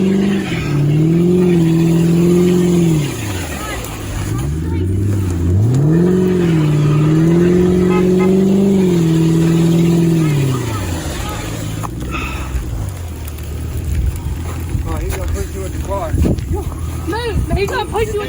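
A stuck car's engine revs up and down in long, loud surging waves while it is pushed. Voices are heard faintly underneath.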